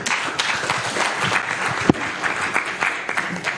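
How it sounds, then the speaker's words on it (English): Audience at a cooperative meeting clapping steadily for a few seconds, a dense patter of hands in a room with one sharper knock partway through. "A hand clap for Chibinge."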